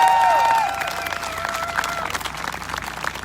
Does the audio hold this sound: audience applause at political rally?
yes